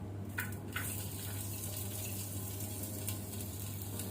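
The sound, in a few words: onions frying in ghee in a hot pot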